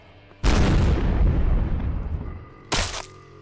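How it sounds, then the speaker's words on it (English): A grenade explodes in Fallout 4 with a loud boom and a long rumbling decay, followed by a second, shorter blast a couple of seconds later. "Grenade."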